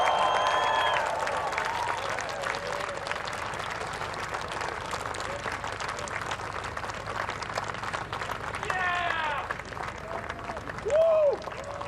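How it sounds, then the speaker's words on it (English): Golf gallery applause greets the 2017 women's world championship winner arriving on the green, a broad wash of clapping with a few brief whistles and a loud burst near the end. "Let's save our applause as we welcome the 2017 champion to the green"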